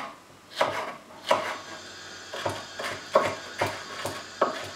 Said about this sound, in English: So I'm going to finely slice the chilli.